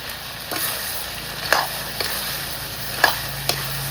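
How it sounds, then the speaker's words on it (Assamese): Goat meat fries with turmeric in a pan, giving a steady sizzle broken by several scraping stir strokes at irregular intervals, close and fairly loud. "হ'লে পূৰা মাংসটো ভাজি আছোঁ"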